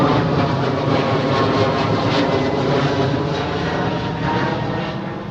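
Boeing 737 jet airliner passing overhead: a loud, steady broadband engine roar fills the whole stretch, easing slightly toward the end, with no talking.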